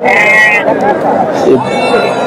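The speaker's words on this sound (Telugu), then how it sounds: "గొర్రెలు అయితే భారీగా ఉన్నాయి" Sheep bleat amid a noisy crowd of animals at a sheep market, overlapping calls close by with constant background chatter.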